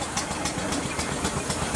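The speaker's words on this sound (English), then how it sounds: "next one's a 6-inch scale Garrett 4CD steam tractor called the Wanderer" A 6-inch scale Garrett 4CD miniature steam tractor, built 2008, runs steadily close by at an arena show, with a continuous mechanical chuff and rumble and faint rhythmic beats under it.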